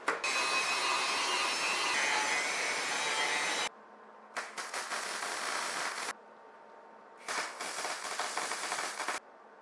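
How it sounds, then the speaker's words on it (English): An angle grinder cleaning metal before welding, three sustained loud harsh bursts of grinding, each running a few seconds and separated by short quieter pauses, with no talking. "Now let's get the grinder in there and get things clean so I can start welding."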